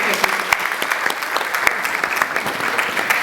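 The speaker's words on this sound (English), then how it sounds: "Let's give her a round of applause." An indoor audience at a talk on non-verbal communication claps steadily, a dense and even round of applause that lasts throughout.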